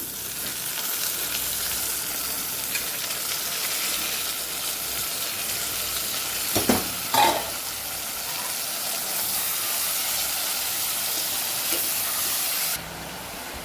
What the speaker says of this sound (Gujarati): બટેકા સરસ તેલમાં સતળાઈ જાય પછી આપણે એમાં કોબી ઉમેરી દેવાની છે